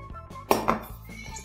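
A frying pan is handled while bean burger patties go in, giving a brief sharp metallic clank followed by a few lighter clinks and scrapes, close and short.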